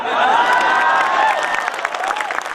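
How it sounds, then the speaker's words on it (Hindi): An audience applauds and cheers at a Hindi poetry recitation, dense clapping with excited voices and whoops rising over it, loud and close, then tapering slightly toward the end. "बात समझ में आ जाए तो ताली बजाना"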